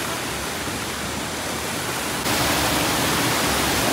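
Neer Waterfall near Rishikesh pours in a steady, dense broadband roar that fills the air close by, growing noticeably louder partway through with no voices heard.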